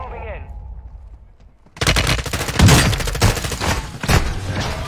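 Dual magnum pistol gunfire in the shooter game Warzone, a sudden dense burst of loud rapid shots after a quiet lead-in, with a voice talking underneath.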